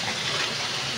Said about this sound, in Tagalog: narinig nyo kumakalampag ang ulan